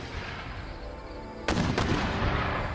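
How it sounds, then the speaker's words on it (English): A mortar fires during a fort siege battle in Empire: Total War, a sudden loud boom at mid-clip followed by a second close crack and a lingering rumble over steady battlefield ambience. "It's a bad miss from that mortar."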